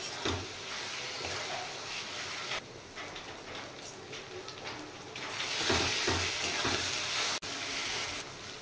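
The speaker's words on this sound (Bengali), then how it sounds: "এবার মশলাটা কষিয়ে নেব। একটু চিনি দিয়ে দেবো এর সাথে।" Spice masala with a little sugar sizzles steadily in a pan while being fried for Bengali non-veg khichdi. The hiss is continuous and fairly close, swelling slightly louder in the later seconds, with no talking.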